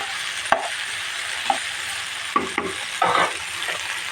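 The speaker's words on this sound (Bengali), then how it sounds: "এখন আমি ভেন্ডিটা ঢেলে দিই" Chopped okra (bhindi) hits hot oil and fries with a loud, close sizzle, broken by a few sharp spatula knocks and bursts of stirring.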